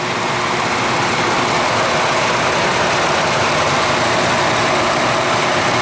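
A Ford F-150 pickup's engine runs louder than usual after a service visit, a dense, constant roar with a low rumble that holds steady at close range with no talk.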